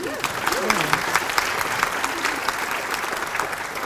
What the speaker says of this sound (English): You can clap it up again for him.